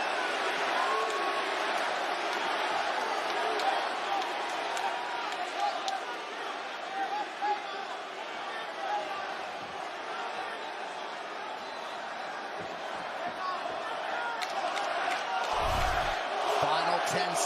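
A UFC arena crowd roars in a dense, sustained wash as fans get behind Jorge Masvidal against Nate Diaz. A commentator talks over the cheering throughout.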